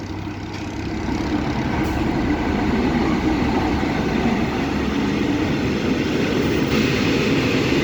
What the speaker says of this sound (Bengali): থাই মালবাহী ট্রেন